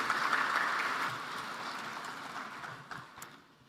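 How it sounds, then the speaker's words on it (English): Audience applause at a heads-of-state energy summit as a speaker heads to the stage, a broad wash of clapping that stays fairly steady before thinning and fading over the last second. "let's give him another round of applause."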